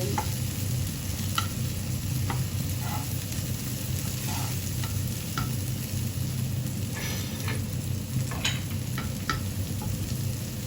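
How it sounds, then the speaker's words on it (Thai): Chili and garlic fry in a small amount of oil in a pan, a loud, constant sizzle broken by scattered scraping clicks from stirring, heard alone. "เราเ เจียวพริกกับ กระเทียม ให้เขาเหลืองนะคะ ไม่ต้องใส่น้ำมันเยอะ"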